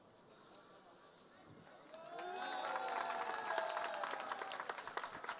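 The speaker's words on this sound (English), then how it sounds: "You have to clap a little bit louder." An audience at a temple festival claps for a devotee being presented with a golden medal. The applause builds after a quiet start into steady, full clapping that holds to the end.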